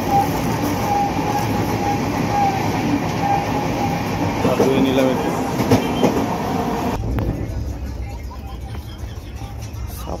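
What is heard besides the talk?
Dibrugarh Rajdhani Express train running on the rails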